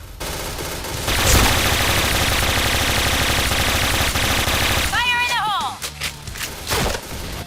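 Kriss S.V Midnight Blue submachine gun fired in the video game Point Blank: a loud, sustained rapid automatic burst lasting about four seconds, followed by quieter game effects and a short rising electronic tone.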